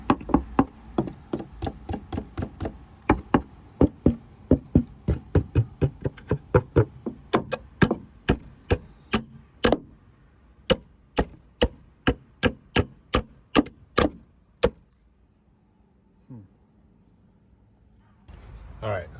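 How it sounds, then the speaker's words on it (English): A hammer strikes nails on a chicken coop build, with dozens of sharp, close knocks in a quick, uneven series that spaces out and stops, and faint background sounds after. "We're gonna count how many nails can we hit with the hammer."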